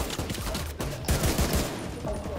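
Gunfire from the video game The Division 2, bursts of shots mixed with game noise and a voice, loud and close throughout.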